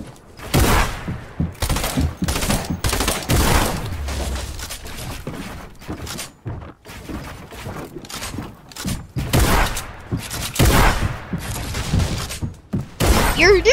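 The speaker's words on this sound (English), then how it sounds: "A shotgun." Shotgun blasts in a video game ring out as a dense run of sharp, loud shots in irregular bursts, with brief gaps between volleys and a player's voice talking at times.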